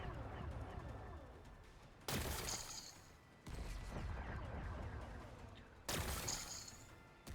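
A plasma cannon blasting rocks in Horizon Forbidden West, three sudden loud blasts with crackling bursts, each fading out over rumbling game ambience.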